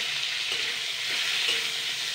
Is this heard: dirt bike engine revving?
no